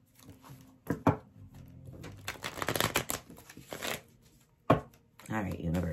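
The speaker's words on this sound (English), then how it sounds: "One more shuffle." Tarot cards being shuffled in riffling bursts during a weekly tarot reading, crisp and close, with a brief pause between a few rustling passes and a quiet voice now and then.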